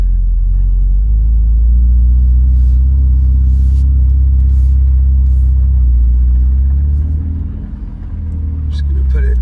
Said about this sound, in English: I'm going to turn the car around.